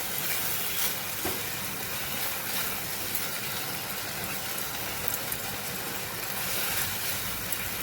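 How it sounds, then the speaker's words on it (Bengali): Masala sautéing in a pan for a whole chicken dish gives a dense, steady sizzle with a constant hiss throughout, close and even in level with no talk. "মশলাটাকে খালি কষাবো, আর কিছু না।"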